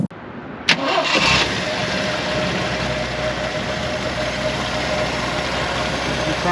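A 1976 Jeep CJ5 with a 258 cubic inch inline six cranks briefly, catches and settles into a steady, smooth idle, close and fairly loud, with no talking.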